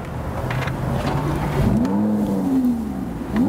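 A Lamborghini engine revs up in a rising then falling howl over a low rumble, fairly close and loud, with street ambience around it.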